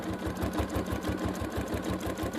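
Sewing machine stitching collage piecing at a constant speed, giving a close, even, rapid needle chatter that runs steadily throughout without a break.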